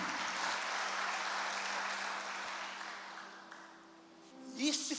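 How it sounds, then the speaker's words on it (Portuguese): A church congregation applauds, a broad wash of clapping that is fairly quiet and slowly fades out, followed by a brief voice at the end. "Vamos aplaudir a Jesus por essa dádiva,"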